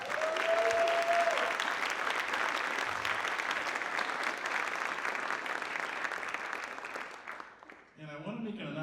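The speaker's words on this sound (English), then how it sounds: "a huge round of applause for our sound" Applause from the audience at a school winter band concert, a full hall of clapping that holds steady, then thins out and fades near the end before a voice begins speaking.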